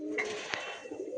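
A male and female pair of Andhra fulsira tippler pigeons coo quietly in a brief, soft, low murmur at a pigeon sale, with no one talking over it.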